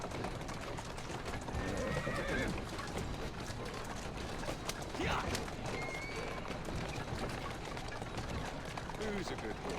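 In an Assassin's Creed game, a horse gallops with rapid, continuous hoofbeats and lets out a neigh midway, with a person talking over the action.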